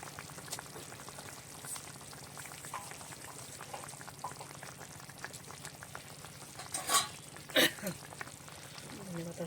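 A thin tilapia fish curry with potatoes simmers in a pot, giving a soft, steady bubbling with light crackle, broken near the end by a couple of sharp, bright clinks.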